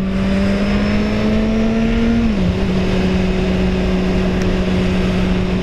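A Kawasaki Z1000 motorcycle drones along at a steady engine hum, its pitch dipping slightly as the throttle eases, with constant wind and road noise and no voices.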